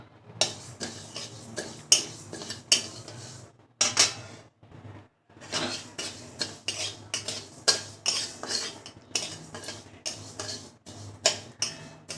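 Black cumin seeds being roasted and stirred in a kadai, with sharp metallic clinks and scrapes repeating in an uneven rhythm close by, then a short pause before the stirring resumes.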